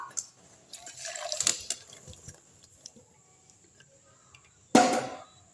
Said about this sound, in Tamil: இப்போ இதை வந்து ஒரு வடியில் வந்து வடிகட்டிடலாம்.